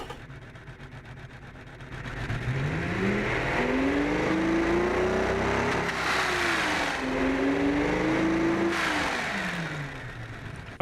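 A 1946 Panther 3X12 engine in a driving game revs up steadily, its tone climbing, then dipping and rising again in a sustained loud run with no talk.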